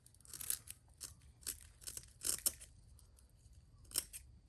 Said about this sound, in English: this narrow chip brush, I'm going to cut these guys off real short.